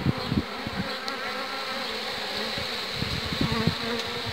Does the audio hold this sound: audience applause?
no